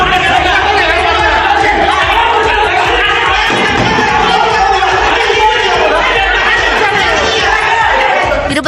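Councillors shout over one another in uproar at a municipal council meeting in Sengottai, a loud dense crowd of overlapping voices holding steady throughout.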